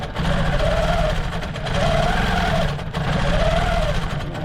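A sewing machine runs in steady bursts while quilting a June Tailor shopping tote with tiny micro-stitch patterns. Three sustained stretches of motor whir and rapid needle chatter sit close and loud, separated by brief pauses.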